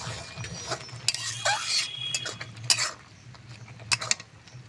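A metal lid is lifted off a pot of simmering banana flower, with faint clinks and scraping rattles in scattered bursts over a low steady hum, and no voices.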